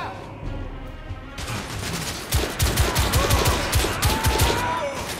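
Gunfire from The Order 1886 video game: a dense burst of rapid shots and automatic fire starting after a quieter stretch and continuing loud, with a brief voice under it.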